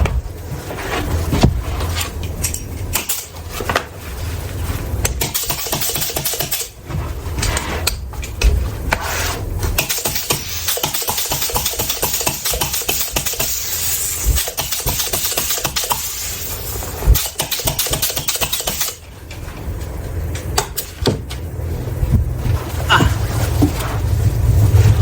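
A sewing machine stitching the front of a wetsuit in a Japanese wetsuit repair workshop, a fast, even mechanical rattle running for several seconds amid workshop noise and handling sounds.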